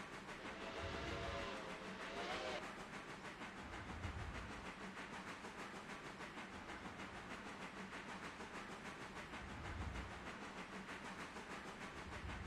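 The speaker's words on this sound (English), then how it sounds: "I'm just sitting here going through all the whistles right now." A steam locomotive whistle in the Railroader video game, an Erie 5-chime, gives a short harmonic blast over a rhythmic chuffing and hiss, with locomotive rumble running throughout.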